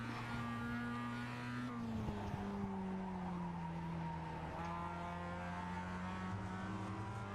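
Tires squeal as a Mazda MX-5 is driven in the iRacing game at Okayama International's short course, a continuous strained engine drone under a steady tire screech that holds for the whole stretch, with no talk.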